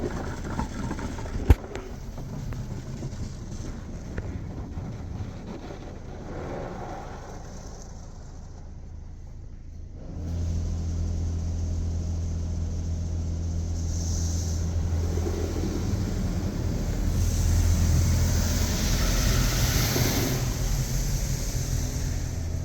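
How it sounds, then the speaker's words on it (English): A Washworld Razor EDGE automatic car wash at a Northshore Mobil in Mequon, Wisconsin applies wax: a steady low machine rumble and hiss of spraying product swell up midway and hold loud and close, with no voices. "Ooh, wax time. Product is now being applied to your vehicle."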